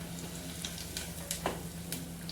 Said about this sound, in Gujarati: થોડુંક આપણે જીરું નાખશું, હિંગ નાખશું।